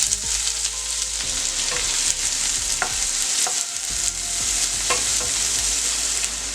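Onion, green chilli, cumin, mustard seeds and curry leaves frying in two spoons of oil for vermicelli upma give a steady, close sizzle, with sharp spatula scrapes and stirring clicks scattered through it and no talking.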